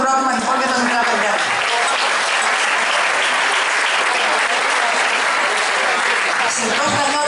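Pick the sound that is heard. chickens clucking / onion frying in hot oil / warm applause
warm applause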